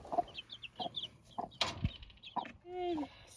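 A broody hen clucks with her chicks in a repeated run of soft, close clucks, joined by higher chick peeps and one brief louder squawk, with no talk.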